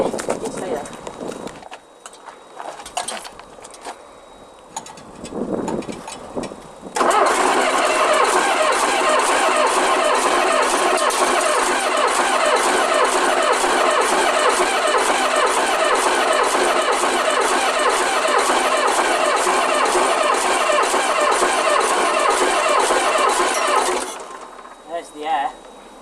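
An engine cranks over with irregular knocks and sputters, then fires and settles into a loud, rapid, steady running chatter for about seventeen seconds before cutting off abruptly, the rhythmic clatter close and dominant.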